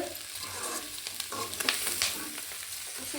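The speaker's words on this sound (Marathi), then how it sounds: "भाजी धिवलेली होती त्यामुळे ती तेलामध्ये टाकल्यामुळे ती डाळ उडत आहे" Wet, just-washed moong dal and greens spattering in hot oil in a village kitchen, giving a steady close sizzle broken by sharp pops and crackles.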